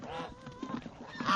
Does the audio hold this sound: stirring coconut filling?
no